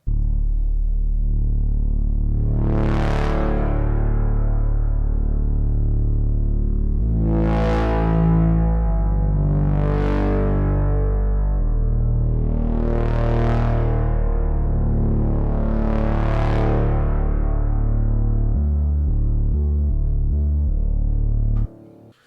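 A thick, detuned Reese synth bass holds long sustained notes, with bright washy swells of filter-triggered reverb blooming over it several times, loud and continuous.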